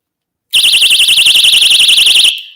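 A piercing, warbling personal safety keychain alarm shrieks loudly and continuously for about two seconds, then cuts off abruptly.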